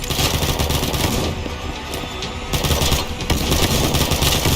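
Sustained automatic gunfire in the first-person shooter Combat Master, loud dense bursts of rapid shots that briefly thin out midway, then resume at full intensity with no voices.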